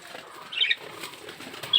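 Pigeons in a loft farm flap their wings in a quick flurry as they rush toward feed, soft and close, with faint cooing beneath and no talk.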